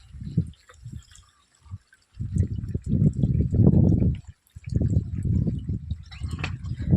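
Water from a farm pipe flows into a basin around coconut trees, a close gurgling and splashing stream in uneven bursts with short pauses between.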